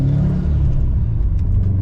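A 2021 Subaru WRX STI launching hard, a loud, close, dense engine roar with a rising revving whir that holds strong through the short burst.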